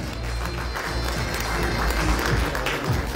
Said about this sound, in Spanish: Stephanie Rebeca Reyes Rojas, y estos aplausos son para ella